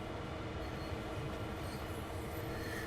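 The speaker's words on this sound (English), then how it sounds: "This ethanol train better hurry up." Freight ethanol train rolling on Sand Patch Grade in Train Sim World 2, a steady low rumble of wheels and cars with faint rail squeal, continuous and moderately distant, no speech.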